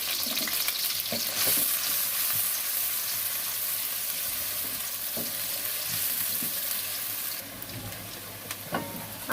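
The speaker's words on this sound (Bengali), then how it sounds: "আমার পেঁয়াজটা ভাজা শেষ," Onions sizzle in a pan alongside cardamom, with a bright, continuous hiss and occasional stirring clinks. The sound is close and even, with no talking.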